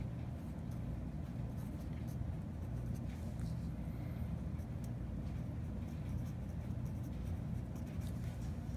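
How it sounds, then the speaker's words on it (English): Steady scratching of pen or marker writing out math work for a graphing lesson, continuous and close over low background hum with no talk. "Let's write that."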